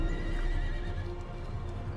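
A horse whinnies in the Age of Empires II video game, a loud neigh over a dense, steady bed of hooves clip-clopping and battlefield ambience.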